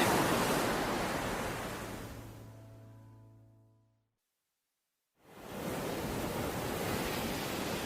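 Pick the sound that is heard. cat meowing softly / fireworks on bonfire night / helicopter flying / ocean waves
ocean waves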